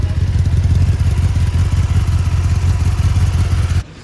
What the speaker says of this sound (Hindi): एग्जॉस्ट नोट आपको सुना देता हूँ।